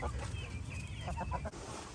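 A large hen clucking close by in a farmyard, a few short throaty clucks over low rumbling background noise.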